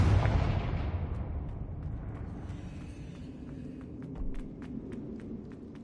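A Confringo fire spell blasts off in Hogwarts Legacy, opening with a loud, heavy explosion whose deep rumble slowly fades, while faint crackling snaps and small clicks trail behind.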